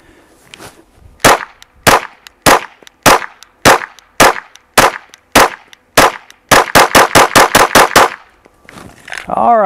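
Nine evenly spaced 9mm shots from a Shadow Systems DR920 pistol at a self-healing target on a range, then a rapid string of about seven more, loud and close, ending in a brief ringing sound.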